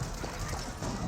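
Horses galloping in the video game Age of Empires 4, a faint, busy clatter of hoofbeats mixed with battle noise, briefly heard under a commentator's voice.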